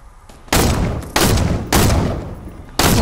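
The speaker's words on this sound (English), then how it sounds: "Who is shooting?" Fortnite Season 6 gunfire arrives as several loud, broad bursts of shooting separated by short gaps, close and dominant, with no talking over them.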